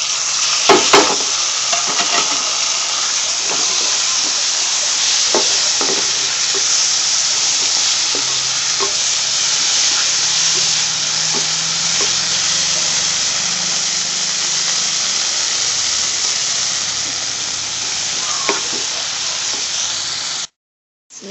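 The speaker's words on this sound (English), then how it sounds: "Drop in the chili powder and the pepper powder and stir a little." Chili powder, pepper powder and small tomato pieces sizzle and fry steadily in a pan while being stirred, with faint scraping strokes over a constant loud hiss, for a Kerala kothu chapati.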